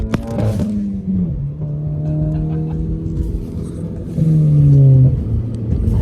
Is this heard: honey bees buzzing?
no